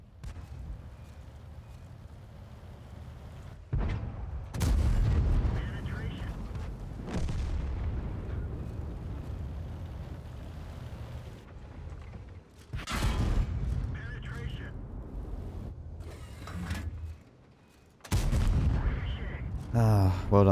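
Heavy tank cannon shots boom out in World of Tanks, several loud blasts spaced through the stretch with rumbling decay between them, while players talk over the battle.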